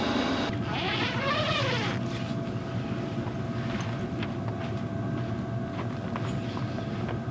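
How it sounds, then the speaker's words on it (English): WIPPRO diesel heater running steadily after about ten minutes of operation, giving a continuous low rumbling drone with an even whooshing hiss and a faint whistling tone early on. "The heater has been running for about 10 minutes, maybe 12-13 minutes"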